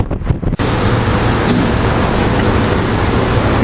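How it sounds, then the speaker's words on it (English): Amtrak Acela and a SEPTA train meeting at Cornwells Heights station, a loud close roar of passing trains that starts abruptly after a brief rumble and holds steady with a faint high whine. "Here we have an Acela and SEPTA train meet"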